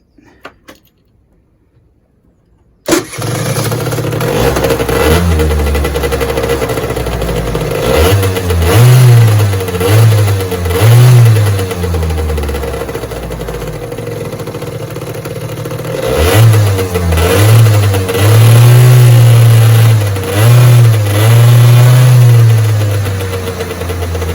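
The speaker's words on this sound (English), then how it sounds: "we'll go for start up now. It should start pretty quick" A Peugeot Speedfight 4 scooter engine starts after a few seconds of near silence, settles into a close, steady idle, and is then revved repeatedly in short rising bursts.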